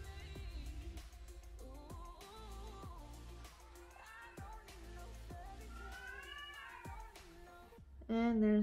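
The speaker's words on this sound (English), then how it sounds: "And there's the cat." A cat meows repeatedly in rising and falling cries over steady background sound and voices, with a louder, closer burst at the very end.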